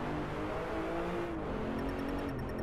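An Aston Martin Vanquish in DRIVECLUB holds a steady, moderately loud engine note that rises gently as the throttle rolls on, with no talk.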